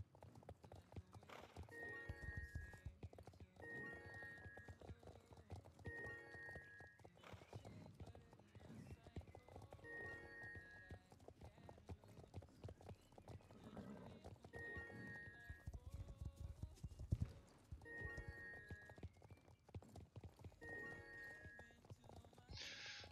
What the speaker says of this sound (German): Oh, ist das Pferd noch langsam.